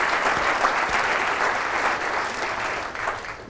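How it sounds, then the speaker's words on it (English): Audience applause during a city's 2014 State of the City address, a steady, moderately distant wash of many hands clapping at once, holding evenly for a few seconds before easing slightly. "I'm going to give that a round of applause"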